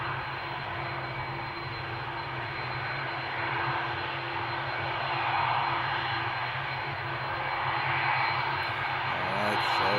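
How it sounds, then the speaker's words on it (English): Airbus A330 jet engines roar steadily overhead at Amsterdam Schiphol, a loud, continuous broadband rush that swells slightly and holds for the full length without any talk. "there is the Lagos flight, the A330 with the screamers under the wings"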